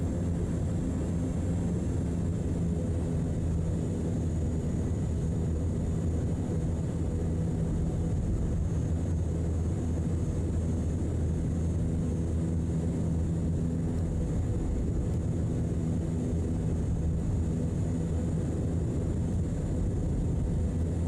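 Canadair CL-415 amphibious water bomber, heavily loaded, on its takeoff roll in Microsoft Flight Simulator 2024: a loud, steady turboprop engine drone with a constant low rumble and a faint high whine, unbroken throughout with no talk.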